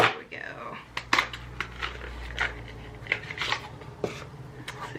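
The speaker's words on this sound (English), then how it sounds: "this is when we bust out the scissors" Scissors snipping and crunching through plastic product packaging, close up, with a string of sharp irregular cuts and crinkles over a low background hum.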